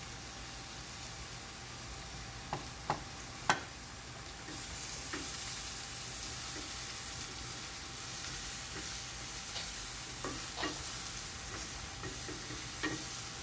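Chopped onion fries in oil in a pan for mushroom risotto, giving a soft, even sizzle with scattered light clicks and a few sharper taps near the start, faint and with no voices.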